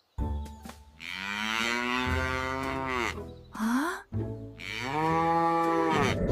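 Two long, loud cow moos, drawn out and close, separated by a brief pause with a short breathy vocal sound between them.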